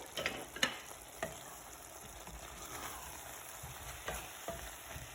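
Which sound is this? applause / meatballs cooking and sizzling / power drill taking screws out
meatballs cooking and sizzling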